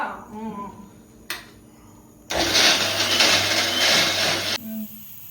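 Mixer grinder blending ingredients for mutton sambar, switching on abruptly into a loud, steady whirring roar for about two seconds before stopping, with brief talk and clatter before it.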